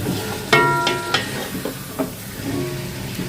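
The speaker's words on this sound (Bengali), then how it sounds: "তার মশলাটা ভালো করে কষিয়ে তারপর হচ্ছে চিকেনটা দিয়ে দিলাম" Chicken sizzles in a pan of spice paste, a steady frying hiss under a few clinks and scrapes of stirring, close and fairly loud with no voices.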